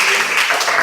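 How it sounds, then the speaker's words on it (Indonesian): Brief burst of audience applause for a student presenter in an Indonesian classroom, dense steady clapping throughout with no pauses. "Berikan tepuk tangan sekali lagi untuk Irhas."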